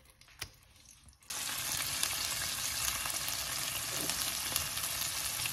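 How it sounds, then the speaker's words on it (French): Cooked shrimp dropped into a hot pan to fry, a faint clatter followed by a sudden loud, steady sizzle that continues close-up without any talk. "je vais faire un petit peu revenir les crevettes, même si elles sont cuites."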